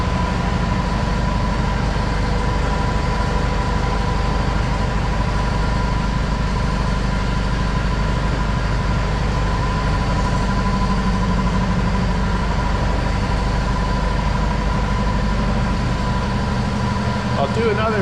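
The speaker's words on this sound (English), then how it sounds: "here's my 1958 Detroit diesel," A 1958 Detroit Diesel 253 series engine idles steadily at a constant, loud level, its even low rumble running unbroken throughout.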